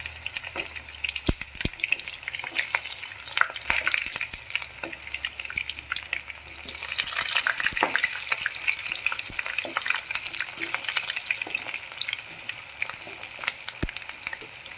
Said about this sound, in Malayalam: എണ്ണ നല്ലവണ്ണം ചൂടായി കഴിഞ്ഞ് നമ്മൾ ഇത് ഇട്ട് കഴിഞ്ഞിട്ട് ഒരു മീഡിയം ഫ്ലെയിമിൽ നമ്മളിത് വെച്ച് ഫ്രൈ ചെയ്യാവേ